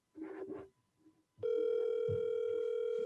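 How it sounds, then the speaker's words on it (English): A telephone rings through a microphone, a steady electronic tone starting after a short burst of voices and holding for the rest of the clip, fairly quiet. "Oh, there's the phone ringing. Is the mic picking it up?"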